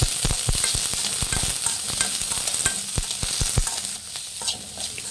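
Chopped onions frying in oil for a dhaba-style goat head and legs curry, a steady bright sizzle with sharp scraping knocks of a spatula stirring the pan, close and continuous.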